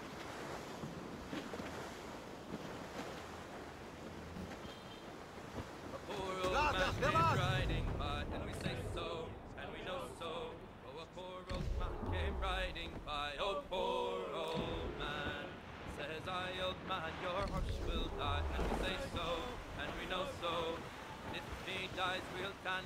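Ocean waves and wind surround a sailing ship at sea in the video game Assassin's Creed Rogue, a steady wash of surf and rushing wind swelling loudly and continuing for the full length, with game sounds mixed in.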